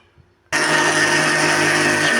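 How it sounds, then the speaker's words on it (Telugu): A mixer grinder grinding jaggery and flour for laddu starts abruptly after a brief quiet moment, then runs at a loud, steady, high-pitched whine. "దీన్ని నేను మిక్సీ పట్టుకుంటున్నానండి"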